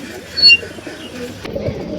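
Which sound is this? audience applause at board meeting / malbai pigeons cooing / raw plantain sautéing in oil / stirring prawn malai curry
malbai pigeons cooing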